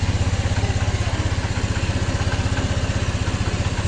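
Rusi RFI 175 motorcycle engine running just after starting, a steady, rapid, even idle chug heard close and alone.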